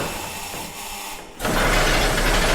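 Model T Ford engine cranked by hand pull in a workshop, a quiet mechanical clicking first, then a sudden loud broadband rush as the engine catches briefly and runs rough for about a second.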